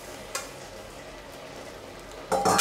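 Apples simmering in a pot, with a steady soft bubbling hiss and a couple of brief stirring clatters, near and fairly quiet throughout.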